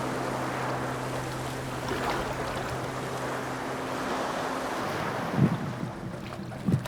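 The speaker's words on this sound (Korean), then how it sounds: "보트를 타고 20분쯤 달리자" Father-and-son fishermen head out to sea off the Seychelles by motorboat. A steady engine drone runs under wind and wave wash, with a couple of louder thumps near the end and no talk.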